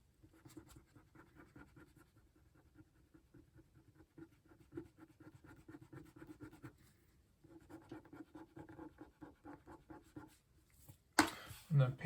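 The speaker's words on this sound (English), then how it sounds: "Dry cleaning old comic books is not fast." Dry cleaning the heavily soiled paper cover of an old Amazing Spider-Man #62 comic book, with soft, steady rubbing and scratching strokes that run continuously close to the microphone, then a louder, brief scuffing burst near the end.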